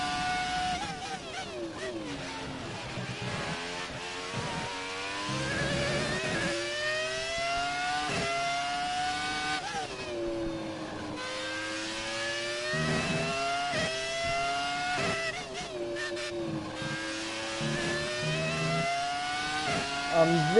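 Classic Formula 1 car in the F1 2018 video game, Italian Grand Prix: a loud, high-pitched engine screams continuously, rising through the revs with repeated sharp gear changes over about twenty seconds, no talking.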